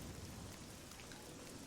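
Steady rain falls in the fantasy role-playing game Oblivion, a soft, continuous wash of static-like patter at low volume with no voices over it.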